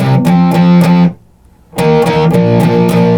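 Distorted electric guitar chugs a rock bridge riff, loud and rhythmic with repeated power-chord hits, briefly cutting out to near silence before the riff returns.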